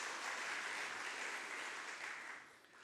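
A church congregation claps together during a Sunday worship service, a dense, even round of applause that slowly fades over a few seconds.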